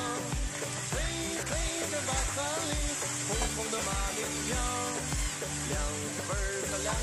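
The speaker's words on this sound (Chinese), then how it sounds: "起锅烧油，油温烧至5成热，加入羊肉片，" Lamb slices stir-fry in hot oil in a wok with a steady sizzle that sits under prominent background music throughout.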